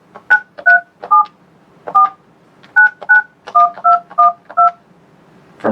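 A Yealink T53W desk phone sounds keypad dialing tones as an extension number is entered, about a dozen short crisp beeps in an uneven rhythm, close and clear with no talk.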